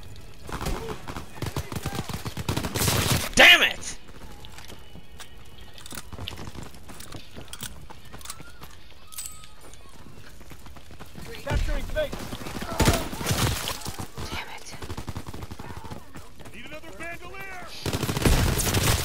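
Bursts of automatic gunfire in the World War II shooter Call of Duty: WWII, loud volleys at the start, middle and end with quieter stretches between, mixed with game sounds and voices talking.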